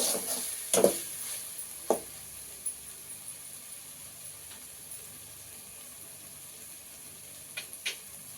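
Masala fries in a pan before spinach goes in, with a faint steady sizzle under a few sharp clinks and scrapes of stirring, close by and without speech.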